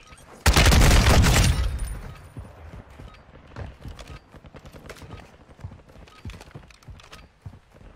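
Gunfire in Call of Duty Warzone: a loud burst of shots opens and fades over about a second, followed by scattered quieter gameplay clatter and footsteps.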